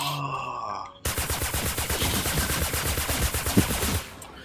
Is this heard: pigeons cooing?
no